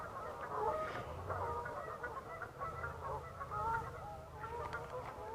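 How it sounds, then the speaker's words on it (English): A flock of geese on a freezing lake honking and clucking: a busy stream of nasal calls that overlap at a moderate distance over a low background rumble. "They're quacking up a storm. Do geese quack?"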